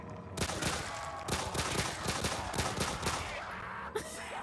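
Rapid gunfire in a Courage the Cowardly Dog fan-made video game, a dense, loud stream of overlapping shots with a steady rattling rhythm that holds for several seconds before a brief break and a final burst.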